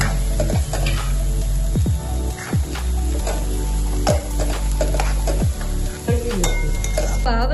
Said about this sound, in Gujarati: હવે આ કોબી નાખવાની મારી પાસે. ઓકે હા જો હવે આ હલાવી નાખવાનું.